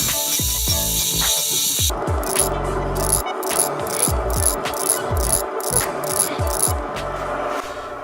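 A parting tool, improvised from an old kitchen knife, notches a spinning wooden knob on a lathe, giving loud, steady scraping and chattering with repeated rhythmic clicks over a constant motor hum.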